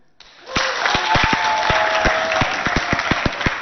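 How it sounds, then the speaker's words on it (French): A school audience at a quiz contest between lycées in Abéché bursts into sustained applause, a dense wash of clapping with some louder individual claps standing out, a tonal hum running beneath it. "Acclamez pour vous-même"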